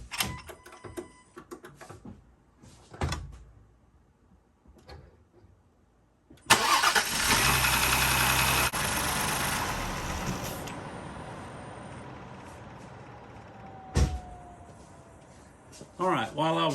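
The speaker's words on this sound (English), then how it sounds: "Let's give her a crank." A 2024 Ford Explorer ST cranks and fires up after an oil change, a loud starter whir then the engine catching and settling into a steady idle, preceded by clicks and handling noises and a brief revving swell near the end.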